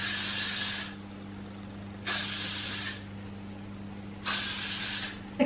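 Three separate bursts of hairspray misting onto hair, each a loud hiss lasting about a second with pauses between, over a low steady background hum.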